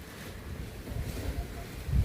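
Wind blows outdoors and buffets the microphone in a steady, low rumbling roar that swells slightly toward the end, with no voices.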